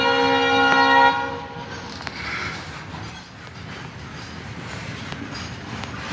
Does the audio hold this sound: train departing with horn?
yes